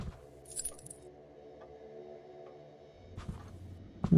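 A key is picked up in the House of Slendrina video game, giving a brief bright metallic jingle early on, followed by a low, quiet game ambience and a few soft thuds.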